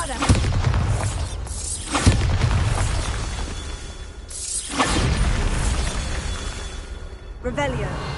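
Repeated Bombarda spell blasts in the Hogwarts Legacy video game: several booming, shattering bursts land in turn over a steady backdrop of game noise, each impact loud and close.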